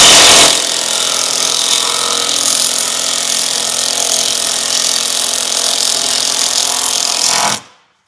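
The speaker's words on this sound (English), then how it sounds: "We're just spinning the bolt." A power tool spins a bolt in one loud, steady, continuous whir lasting about seven seconds, then cuts off abruptly.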